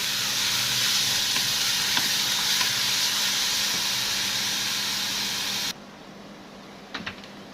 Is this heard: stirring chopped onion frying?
yes